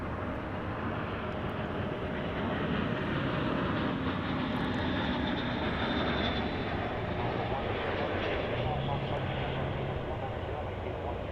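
Continuous loud roar of an American Airlines Airbus A321 jet in special livery at DFW airport, a broad steady engine rumble filling the whole stretch with no break.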